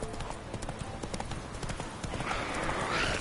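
Roach, a horse in The Witcher 3 video game, clip-clops along a road in a quick, steady rhythm of hooves, with a brief whinny-like rise near the end.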